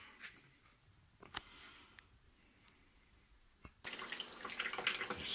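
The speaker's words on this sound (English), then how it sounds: "Slightly add more water to make just a good mixture of the soapy, liquid soap and the water." Tap water runs into a sink while an 8-inch Soligor MT-800 Newtonian telescope mirror is washed with washing-up liquid. A few faint clicks and drips come first, then the water starts suddenly and keeps splashing loudly.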